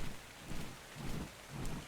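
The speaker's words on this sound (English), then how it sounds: "It's just fog and rain right now." Rain in a video game hisses as a steady, soft wash with gentle swells, joined by low rumbles like wind or distant thunder.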